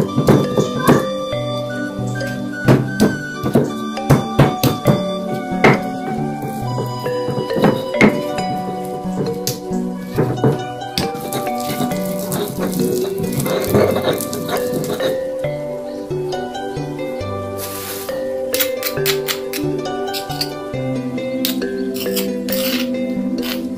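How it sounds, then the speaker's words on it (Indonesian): Candlenuts, garlic and coriander seeds are ground by hand in a mortar and pestle, giving a dense run of knocking thunks and ringing clinks at an irregular, busy rhythm, close and fairly loud, with no speech. "Oke, kita ulek bahan-bahan ini."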